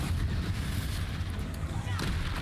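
A Bombarda spell explosion from Hogwarts Legacy, heavy booming low rumble sustained loudly throughout with crackling blasts, and a sharp burst near the end.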